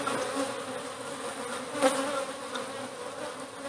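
Honeybees at a disturbed, stacked beehive buzz in a dense, continuous swarm hum close by, with one brief louder swell as a bee passes near, and no talking.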